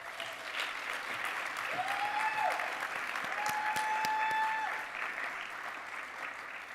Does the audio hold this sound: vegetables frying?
no